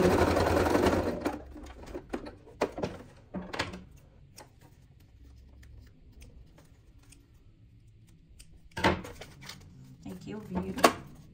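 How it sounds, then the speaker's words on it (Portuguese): A sewing machine stitches fabric, running back over an earlier seam in short bursts of rapid mechanical whirring separated by quieter pauses, with someone speaking between them. "E vou costurar em cima dessa costura que eu fiz"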